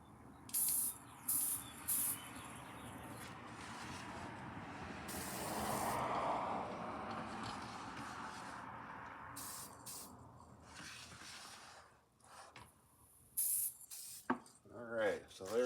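Mod Podge clear matte spray from an aerosol can, several short test bursts followed by a longer steady hiss, close to the microphone and separated by quiet gaps, with a voice speaking briefly.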